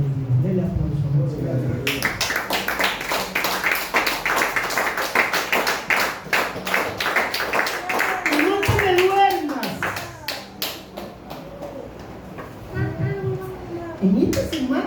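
Worshippers in a Spanish-language church clap, a run of rhythmic hand claps beginning after a couple of seconds and tapering into scattered claps, with voices talking and a child audible alongside.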